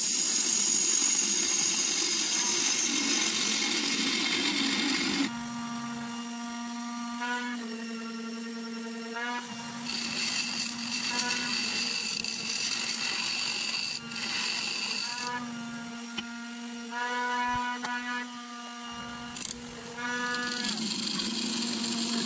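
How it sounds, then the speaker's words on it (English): A sander works on a woodturned spiral bowl of walnut with walnut shells, giving a loud, continuous whirring hum that changes pitch as pressure varies, with brief dips and surges throughout. "she's using a sander. It will be pretty loud"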